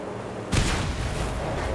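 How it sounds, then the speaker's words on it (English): Shotgun blast during car combat in the video game Mad Max, a sudden heavy boom cutting in after a quiet start, then a sustained rumbling roar of engines and gunfire. "aim and fire at the weak spots with the shotgun"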